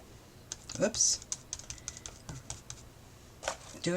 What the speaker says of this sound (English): Doing things on my keyboard